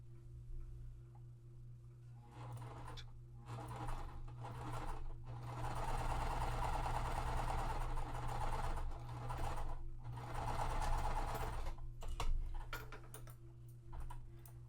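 A sewing machine stitching quilt pieces, its motor whirring in sustained runs with a fast rhythmic needle clatter, stopping and restarting several times, close and steady with a low hum beneath.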